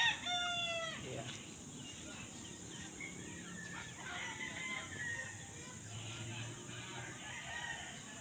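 Chickens and young chicks at a gamefowl breeding farm in Silang, Cavite, with a rooster crowing at the start and scattered clucks and peeps from many birds throughout, some near and some farther off.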